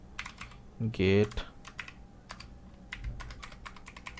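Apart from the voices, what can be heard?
computer keyboard typing while writing Python code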